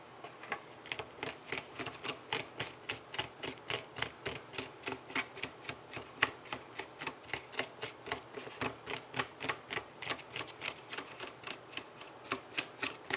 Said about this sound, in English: in a backward motion, scrape the needles off